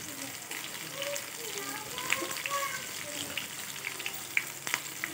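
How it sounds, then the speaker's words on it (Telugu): Urad dal, chana dal, cumin and chopped green chillies crackle and sizzle in hot oil, a continuous close frying hiss with small pops throughout. "ఒక 2 పచ్చిమిర్చిని ఇలా చిన్నగా కట్ చేసేసి వేసుకోవాలి."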